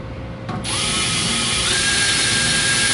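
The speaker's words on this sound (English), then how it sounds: "It's aluminum, so it drills pretty easily." A power drill bores out aluminum rivets while a PC case's drive bays are removed. After a brief start, a loud, steady, high-pitched whine runs without a break until the end, with no talking.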